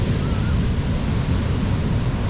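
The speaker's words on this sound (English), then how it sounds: "But yeah, the ocean is so nice." Ocean surf washing onto a black volcanic sand beach on Tenerife, a loud, continuous rushing roar with heavy low rumble and wind buffeting the microphone, no voices.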